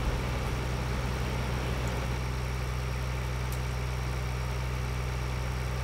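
A yellow and green tractor engine idles in Farming Simulator 2013, a low, steady rumbling hum that stays even throughout with no voices.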